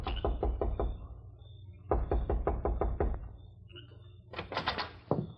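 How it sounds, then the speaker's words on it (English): Knuckles rap on an office side door in quick clusters of four or five soft knocks, repeated several times with brief pauses, close and fairly quiet, with faint background hum. "knocked quietly on the side door to the office."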